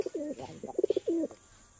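Male pigeons coo in a short run of low, throaty, rolling calls, close and fairly clear over a faint background hiss, with a final drawn-out coo before the clip goes quiet.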